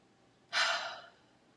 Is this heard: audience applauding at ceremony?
no